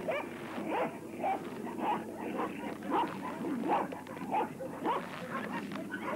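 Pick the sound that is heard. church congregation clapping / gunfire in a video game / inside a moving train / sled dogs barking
sled dogs barking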